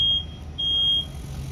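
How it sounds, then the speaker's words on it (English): A smoke alarm sounds during a live fire sprinkler demonstration in a burning room, giving two shrill, piercing beeps over a low background rumble. "the smoke alarm is going off"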